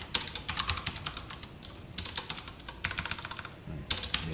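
Fast typing on a computer keyboard at a desk, with close, crisp key clicks coming in quick bursts separated by short pauses, and no voices.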